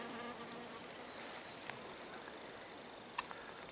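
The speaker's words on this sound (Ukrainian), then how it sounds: "Сьогодні перша бджола на акації." A bee buzzes faintly and continuously close by on acacia blossom, with light outdoor background noise and a couple of small clicks.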